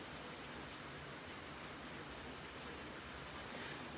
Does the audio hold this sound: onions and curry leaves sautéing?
no